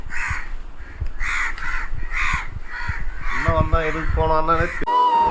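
Person imitating a crow's caw, a series of repeated loud cawing calls with rhythmic pauses, followed by people talking close by.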